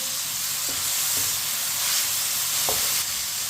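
Chopped green chillies and finely cut tomatoes are stirred in a hot pan, a dense steady sizzle with a few soft scraping strokes of the spoon at close range.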